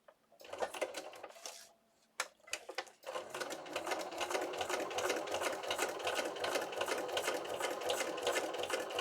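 Sewing machine with a heavy-duty needle stitching through plastic, a few slow separate stitches at first, then a steady fast rhythmic whirring run of stitches, close up and clear.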